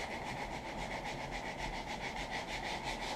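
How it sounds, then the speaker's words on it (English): Rough sandpaper rubs along the edges of a knife, a steady, close, rhythmic back-and-forth scraping that continues without pause. "Using a real rough sandpaper to round the edges."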